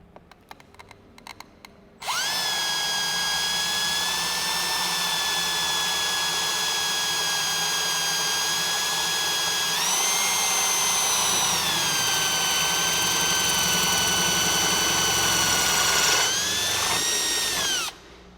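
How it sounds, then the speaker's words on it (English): Worth stoneware drill bit dry drilling into tile at slow speed without coolant: a steady high-pitched whine runs about sixteen seconds after a few brief taps, shifting pitch midway and cutting off near the end. "Now, the drill bit operates at a slower speed. Also, it doesn't need any coolant or oil to help it drill,"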